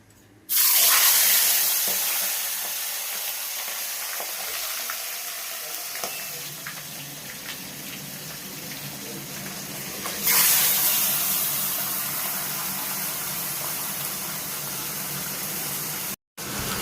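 Salted, turmeric-rubbed fish heads frying in hot oil in a pan for a Bengali muri ghonto, a loud steady sizzle that flares sharply at the start and again midway, then continues without talk.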